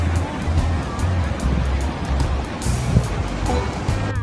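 Ocean surf at Punta de Locos beach in Pichilemu, Chile, a continuous loud wash of breaking waves mixed with gusty wind buffeting the microphone.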